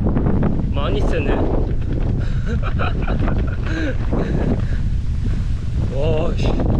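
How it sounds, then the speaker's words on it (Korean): Strong headwind buffets a cyclist riding through scorching heat in Spain, a loud, constant roar of wind noise across the microphone throughout, with a voice talking intermittently over it. "오늘 바람 매섭네."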